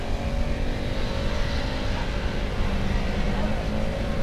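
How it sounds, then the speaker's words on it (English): A racing car engine roars steadily nearby during a support race at the Polo Memorial Meeting 2004 at Bovingdon, a continuous high-revving drone that holds its level throughout. "And Anthony Oak got some steering for that car"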